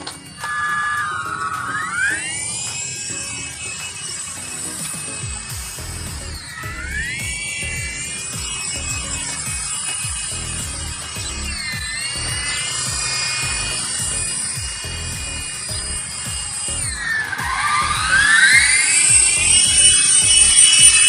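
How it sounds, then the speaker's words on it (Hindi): A small remote-control helicopter whines loudly and close, its motor pitch sliding up and down repeatedly as it maneuvers, growing louder toward the end. "काफी ऊपर जा चुका है हेलीकॉप्टर"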